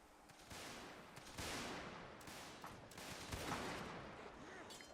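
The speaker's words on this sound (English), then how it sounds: "Bullet firing all over the place" Massed musket gunfire crackles through a line battle in the Mount & Blade North & South mod, with overlapping shots popping irregularly at mid distance and the occasional louder report standing out from the steady din.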